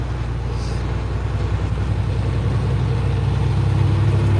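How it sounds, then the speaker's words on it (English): A heavy vehicle engine idles steadily at close range, a constant low rumble with a regular throbbing pulse during a convoy drivers' meeting. "Can they hear the engine?"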